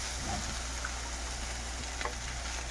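Cauliflower and cabbage frying in a pan, a steady dense sizzle with faint crackles and occasional light stirring clinks, no talk.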